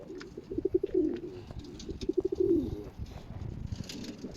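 A racing pigeon, a prize-winning cock bird, coos close by in two soft, throaty rolling phrases separated by a short pause, against a quiet background.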